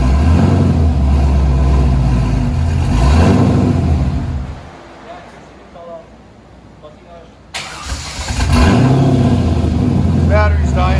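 A 2000 Chevrolet Corvette's 5.7L LS1 V8 with long-tube headers and Magnaflow dual exhaust revs hard and loud, its note swelling and falling, dropping briefly to a quieter idle, then roaring back up.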